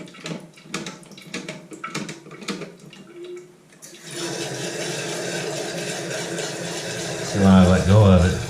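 A voice talks briefly before a leaking toilet's tank starts refilling as the float drops, giving a steady rushing hiss of running water that holds and grows slightly louder near the end.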